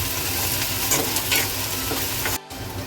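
A vegetable mixture is roasted in a pan and stirred, with a constant close sizzle and scattered spoon scrapes that dip briefly near the end, with no speech.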